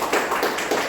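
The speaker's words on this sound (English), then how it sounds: "I would request all the audience to give a big round of applause for the TT speakers." Applause from the audience at a Toastmasters club meeting comes through as a soft, diffuse wash of clapping, steady but somewhat distant and muted.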